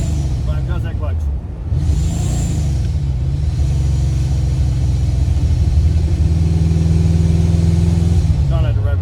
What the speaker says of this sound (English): Trying not to rev it up too tight because this alternator's not hooked up.